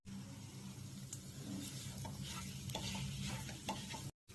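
Onions cooked down with masala paste sauté in a pan for chicken liver gravy, a steady close sizzle with stirring scrapes and a few soft clinks, running continuously before cutting off briefly near the end.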